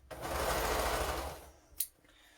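A sewing machine runs steadily for over a second while stitching a quilt seam, then stops, followed by a brief sharp click near the end.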